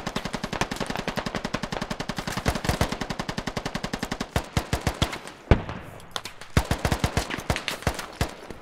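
Rapid machine-gun fire in the Squad video game, Iranian armed forces in Fallujah: long sustained bursts of sharp, evenly spaced shots, then scattered louder single reports and short volleys after a brief pause.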